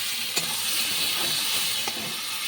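Meat added by hand to a pan of fried onions for a Bengali mangsho kosha, giving a steady close sizzle with a couple of brief louder spits, no voices.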